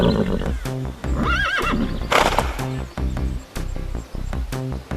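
A horse whinnies loudly and close, with a rising, wavering neigh in the middle, while steady clip-clop hoofbeats keep a rhythmic pattern before and after it.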